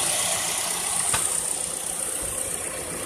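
A 2017 Hyundai Elantra SE with a 16-valve four-cylinder engine idles just after startup, a steady, even, fairly close hum with one brief click near the middle.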